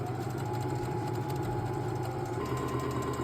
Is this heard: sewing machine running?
yes